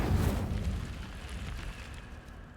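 Incendio fire spell cast in Hogwarts Legacy, a sudden loud whooshing burst of flame with a deep rumble that fades into a crackling tail over a couple of seconds.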